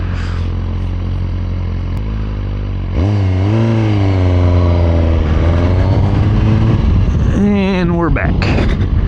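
A brand new 2023 Suzuki GSX-R 1000 sportbike accelerating hard through the gears on the road, its engine note rising in loud sweeps with brief dips at each shift, heard up close from the rider's position.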